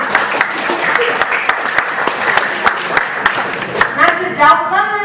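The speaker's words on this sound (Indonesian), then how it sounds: "Tepuk tangan dulu dong buat orang tua." Audience applause for parents at a child-protection seminar, a steady round of clapping from a crowd that stays fairly even throughout, with a voice speaking over it near the end.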